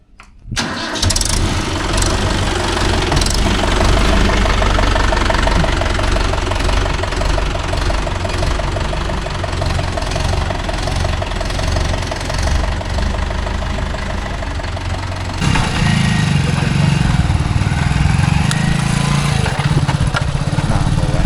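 An engine cranks and catches, then runs in a loud continuous knocking chug close by, with a shift to a deeper rumble toward the end.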